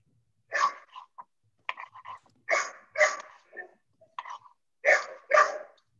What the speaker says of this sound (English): My dog is smelling the food. I don't know if you can hear her barking.